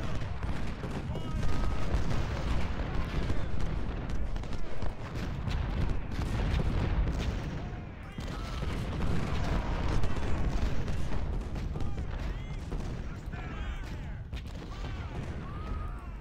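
Artillery and musket fire in the Ultimate General: Civil War game form a dense, continuous battle rumble with overlapping booms and crackling volleys, loud throughout with no clear pauses.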